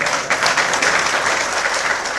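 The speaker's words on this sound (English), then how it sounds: "Give me a round of applause, I encourage you." An audience at a leadership seminar breaks into a brief burst of applause, a dense and steady clatter of many hands clapping at close range.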